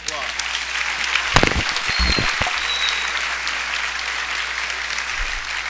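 Applause for graduates at a 2019 middle school graduation ceremony, steady broadband clapping from a large audience filling the whole stretch, with a brief voice cutting in near the start.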